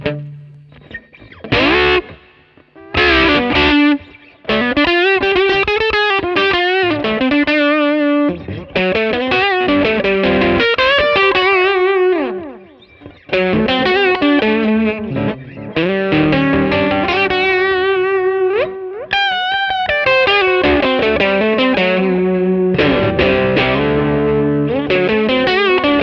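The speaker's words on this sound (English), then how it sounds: "you can engage the dingo and the King Brown together. And with the two stages together, I've got the compressor in, a little bit of reverb" An electric guitar played through a Minson M8 pedal, with the Dingo and King Brown drive stages engaged together plus compression and a little reverb, rings out in loud, sustained distorted chords and melodic lines with brief pauses between phrases.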